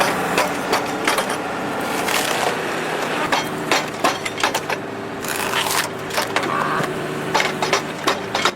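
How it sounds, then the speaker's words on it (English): A Narva S23 firewood processor cuts logs into chunks, giving repeated cracking and splintering bursts of wood over a steady machine engine hum, loud and close with irregular rhythm. "The Narva S23 harvester and firewood processor seamlessly transforms standing timber into neatly bagged firewood with minimal effort."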